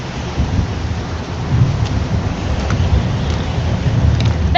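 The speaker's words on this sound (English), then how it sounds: "It's pouring rain." Heavy rain pours down in a video game with a low, rumbling roll of thunder beneath it, steady and enveloping with no voices.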